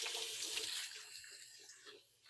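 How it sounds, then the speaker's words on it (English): Tap water runs steadily into a home kitchen sink while hands are washed beneath it. The faint, continuous splashing eases slightly toward the end, with no talking. "I'm going to give my hands a good wash"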